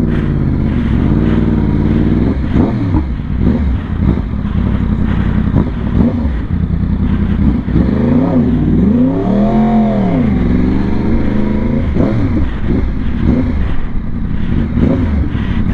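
Several motorcycles rev and ride along a busy street, engines rising and falling in loud, close throttle blips and one long swelling rev, with a steady rumble underneath throughout.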